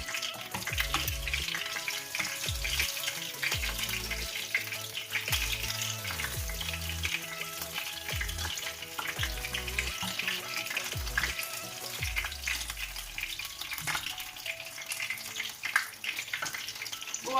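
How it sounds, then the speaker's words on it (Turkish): Continuous bubbling sizzle of sauce-dipped cauliflower frying in hot oil, with occasional soft knocks and scrapes of a utensil in the pan. "sosumuza batırıp kızartalım"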